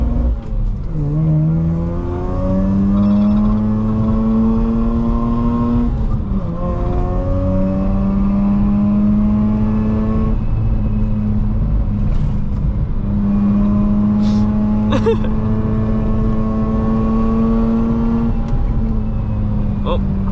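Car launching and accelerating hard, engine revving up through the gears in several rising sweeps with brief shift dips, loud and continuous from inside the cabin, with occasional talk.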